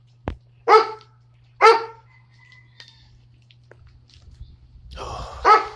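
A dog barks several times outdoors during home repair prep on a wet day, with separate loud barks spaced about a second apart and a final bark after some rustling and background noise.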